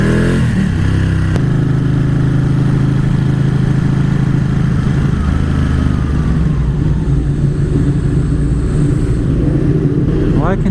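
A superbike engine drones loud and steady at close range while the rider splits lanes in traffic, its pitch holding fairly even with slight shifts throughout.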